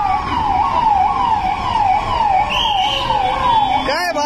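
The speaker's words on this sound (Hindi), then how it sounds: "एम्बुलेंस है भाई" An ambulance siren wails on a Mumbai road, a loud, close, rising-and-falling tone repeating steadily, then switching briefly to a rapid yelp near the end over traffic noise.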